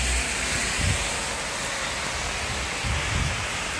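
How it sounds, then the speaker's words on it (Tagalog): Heavy rain in Abu Dhabi pours down in a dense, constant roar, with a few low rumbles underneath and no one speaking. "Ang lakas ng ulan."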